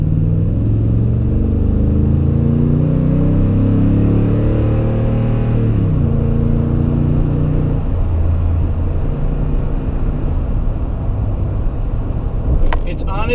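A Toyota Tundra pickup engine in tow haul mode pulls hard, its drone rising in pitch without shift breaks before dropping off, with a short rattle near the end.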